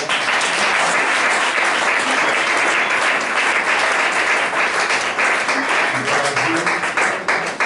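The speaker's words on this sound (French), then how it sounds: "On acclame encore le Seigneur." Church congregation applauding at a worship service, loud sustained clapping from many hands filling the whole stretch, with some voices mixed in beneath.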